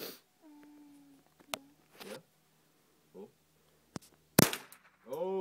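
A .22 rifle fires one sharp, loud shot outdoors, with a smaller crack just before it and bursts of people talking and a cat-like wail scattered around it.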